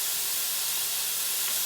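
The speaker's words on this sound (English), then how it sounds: "I hope the frying sound isn't too loud." Chicken fries in a pan with a steady, bright sizzling hiss, continuous and fairly faint, with no voices.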